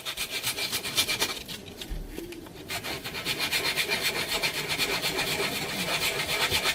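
Steady wet sanding of a P80 polymer pistol frame, a continuous gritty rasp from back-and-forth strokes, close and moderately quiet, with no talking.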